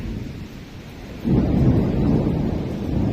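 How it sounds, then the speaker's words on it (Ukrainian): Thunder rumbles during a storm, a low rolling swell that surges loudly about a second in and keeps grumbling over a steady wash of rain, with no voices. "Ну, гримить постійно, чуєте, да?"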